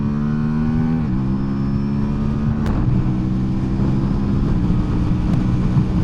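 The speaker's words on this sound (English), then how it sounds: "So let me demonstrate the merging speed of the Tuono 457," Aprilia Tuono 457 motorcycle pulling hard in third gear, its engine note climbing steadily after a brief dip, loud and continuous with road and wind roar underneath.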